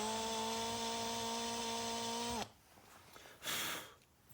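A drill with a 1/4 inch bit bores through a metal skid weight plate for an RC car, whining steadily before spinning down abruptly, followed by a brief scraping rustle.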